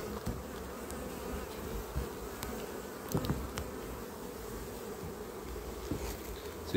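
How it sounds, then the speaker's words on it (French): Steady, dense droning hum of many calm honeybees buzzing close by at an open hive worked without smoke, continuous throughout with occasional faint clicks and knocks, no voices. "Les abeilles sont calmes."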